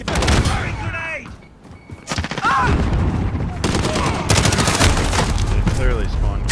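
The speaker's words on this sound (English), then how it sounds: "Firing grenade!" Gunfire rattles in a shooter video game, bursts of automatic fire and thudding explosions such as a grenade blast, loud and close, mixed with shouted voices and in-game callouts throughout.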